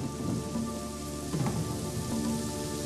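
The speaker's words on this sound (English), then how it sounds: "Shifting weather patterns brought torrential rain to the area" Torrential rain pours down steadily in a dense, continuous wash, with no break or talk, and a faint low rumble hints at distant thunder.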